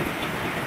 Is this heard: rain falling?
yes